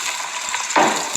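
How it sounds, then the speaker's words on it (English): Onion sizzles and crackles frying in hot oil, steady and close, with a brief stirring swish partway through. "I'll just fry this onion small"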